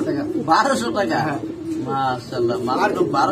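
Fancy pigeons at a breeder's farm give soft, repeated throaty coos, close by, in short bursts, mixed with what sounds like nearby human voices.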